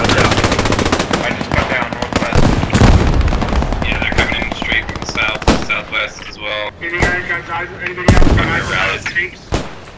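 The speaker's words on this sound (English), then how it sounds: "artillery coming in on 97 northwest" Artillery and machine gun fire in the World War II shooter Post Scriptum, rapid bursts of automatic fire and heavy booming impacts close by, overlapping with radio-style voices talking between the shots.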